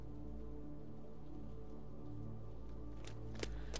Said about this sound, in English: She shook off the professor's hand and ran into the street through the pouring rain.